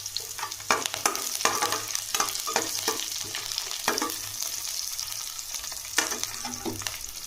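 Garlic and green chilies fry in hot oil with cinnamon for a tomato kuzhambu. A steady sizzle runs throughout while a spoon stirs with frequent sharp scrapes against the pan.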